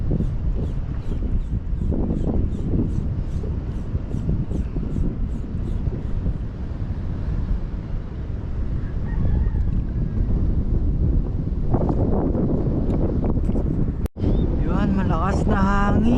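Strong wind buffets the microphone on a rainy fishing shore, a steady loud roar throughout with a brief dropout near the end, while someone speaks over it.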